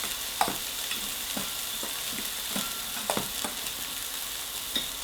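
A smash burger patty fries on a stovetop, giving a steady close sizzle with occasional soft scraping and stirring clicks.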